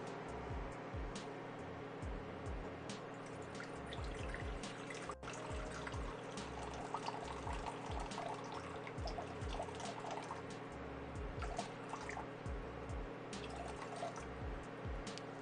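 Water pours in a steady trickling stream for sourdough dough, running continuously at a moderate level in a quiet kitchen.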